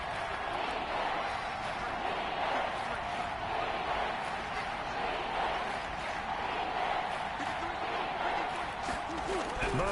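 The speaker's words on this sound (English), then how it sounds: "This is where the KC crowd can make it very tough." A Kansas City stadium crowd roars in Madden 22 with a steady, loud, dense noise that holds level the whole time, with no talking clearly heard on top.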